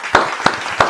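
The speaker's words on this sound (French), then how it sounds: "Applaudissez pour Ibrahim Traoré." A few slow, distinct claps, three sharp hits spaced apart in about a second, from an audience applauding for Ibrahim Traoré.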